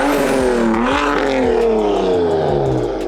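A BMW F30 335i with M Sport package and big SpeedTech turbo running at first start, loud close engine revving with rising and falling pitch, no talking.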